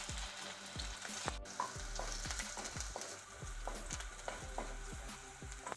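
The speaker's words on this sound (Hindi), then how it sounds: "एक मिनट के लिए इसको शैलो फ्राई करेंगे" Finely chopped garlic and ginger shallow-fry in a pan, giving a quiet constant sizzle under a regular run of soft spoon scrapes and taps while being stirred, with nobody talking.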